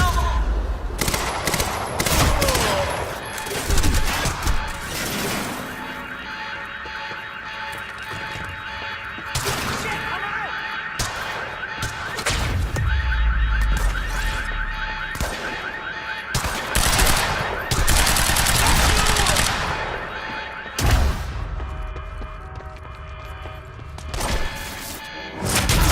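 Gunfire from the video game Quantum Break, with repeated bursts of automatic fire and heavy thumps and crashes continuing throughout, loud and close, with a voice briefly heard among the shots.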